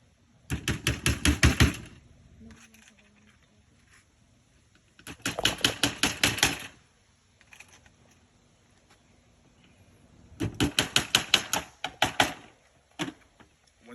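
A hammer drives nails into wooden pieces for a Cub Scout treasure box, in three separate bursts of rapid, light, close tapping with quiet pauses between them.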